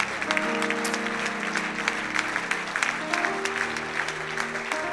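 A church congregation claps steadily and continuously, a warm sustained wash of applause with organ-like sustained tones underneath.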